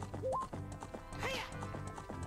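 Horse hooves clip-clop steadily in The Legend of Zelda: Ocarina of Time, with a short rising whinny-like call early on and another brief tonal sweep midway, all under game background sound.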